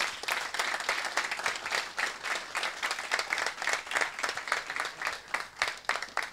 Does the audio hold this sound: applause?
yes